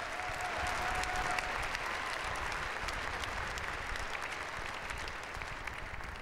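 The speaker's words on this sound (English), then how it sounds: "You can clap, that's good." A graduation audience at a community college ceremony applauds, a steady wash of many hands clapping in a large hall, heard at a distance and holding evenly throughout.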